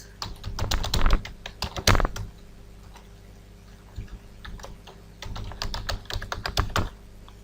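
Fingers type on a computer keyboard while filling in an email address on an account form, in two clattering bursts of close, crisp keystrokes separated by a quieter stretch of scattered taps.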